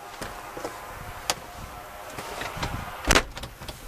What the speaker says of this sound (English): Cockpit door is closed.